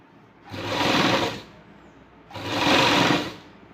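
Sewing machine stitching fabric near a blouse armhole, two separate bursts of steady mechanical whirring about a second long each, close and clear with a short quiet pause between them and no talking.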